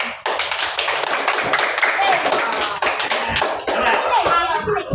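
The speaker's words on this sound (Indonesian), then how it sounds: "Kita beri tepuk tangan dulu." Group of fifth-grade pupils clapping together in a primary school science class: many quick, crisp hand claps in a steady burst throughout, with children's and a teacher's voices talking over it.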